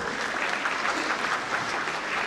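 A college audience at a 2023 women's college fashion show claps warmly and loudly. The applause keeps up a thick, unbroken sound for the whole stretch, with no one speaking.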